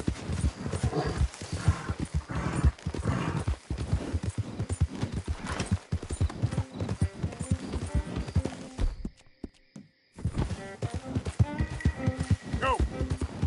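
Galloping horse hooves in the Red Dead Redemption 2 video game, a rapid rhythmic clip-clop running almost continuously, with a horse whinny and a brief gap of near silence before the hoofbeats resume.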